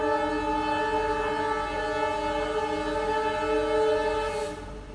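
A light locomotive passes near Dudhsagar waterfall, its horn a loud, sustained, steady blare over a low engine rumble, holding for several seconds before trailing off at the end.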